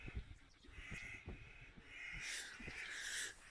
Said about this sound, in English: There's a raven turf war going on.